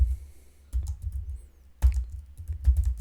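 Keys clatter on a computer keyboard while values are entered into an MS Excel data validation cell, with short bursts of quick clicking separated by brief pauses, close and fairly clear.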